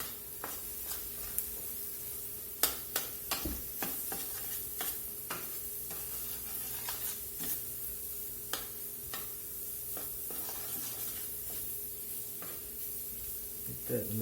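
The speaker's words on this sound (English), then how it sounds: "we're back to sizzling in the olive oil and butter that we started with" Flour sizzles gently in olive oil and butter in a pan, a soft continuous fry with frequent clicks and scrapes of stirring, close and quiet.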